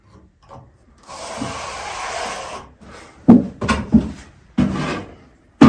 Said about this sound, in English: we're opening the trowel up, I'm going to get the angle, and then I'm going to push